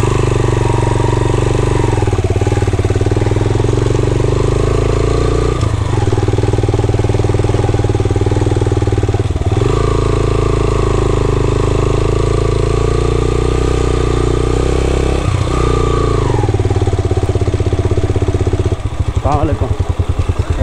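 A motorcycle engine runs loud and close on a rough mountain track near Rupal village below Nanga Parbat, its rumble rising and falling with several revs, then sputtering unevenly toward the end.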